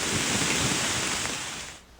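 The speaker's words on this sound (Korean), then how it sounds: "흘렸던 땀을 식혀주듯 한바탕 소나기가 쏟아집니다." A sudden shower pours down over a forest near a coastal basin in Gangwon, making a dense, steady hiss of heavy rain that stays loud, then eases off toward the end.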